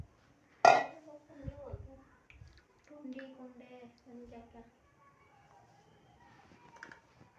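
A small cooking pot is picked up and set down in a home kitchen, giving one sharp metallic clink followed by softer knocks and scrapes while someone talks.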